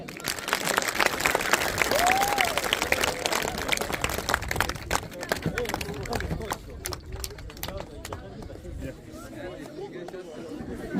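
Audience at a school award ceremony applauding as students are called up to receive honours, a dense wash of clapping and crowd chatter lasting the whole stretch, fading slightly toward the end.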